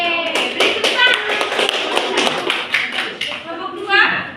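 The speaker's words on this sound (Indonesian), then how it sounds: "Yeay, beri tepuk tangan." Schoolchildren in a classroom clap together, a burst of quick, uneven hand claps with chatter and voices over it, rising again near the end.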